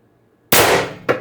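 A single loud, close shot from an X-68 Punisher airgun firing a 9.9 gram riot ball at 1000 psi through a combined 19-inch stainless steel barrel, a sharp burst with a brief tail and a smaller second pop.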